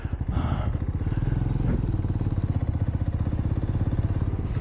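A motorcycle rides through the lanes of Guiyang's old town in Guizhou, its engine pulsing steadily and loud near the microphone for the whole stretch, with faint street noise beneath.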